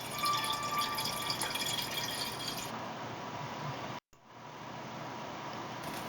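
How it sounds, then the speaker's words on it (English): Hard cider pours smoothly into a jar, a faint continuous splashing and trickling of liquid with a short break near the end before the pour resumes. "You want to pour so that there is, as much as possible, a smooth pour"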